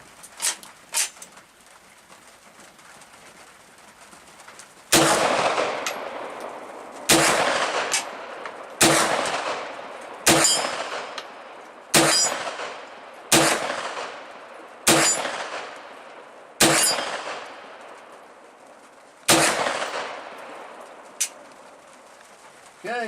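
A Chiappa Pak-9 9mm rifle shooting steel targets outdoors: about eight sharp, loud shots spaced a couple of seconds apart, each followed by a ringing decay, with faint birdsong in the background.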